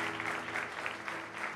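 Church congregation applauding loudly and steadily as a dense, even wash of clapping that fills the whole short stretch, with no voices over it.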